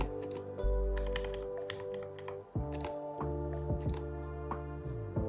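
Rapid keystrokes on a computer keyboard while switching a Linux Manjaro setup to French, a close, uneven run of taps with short pauses and no talking.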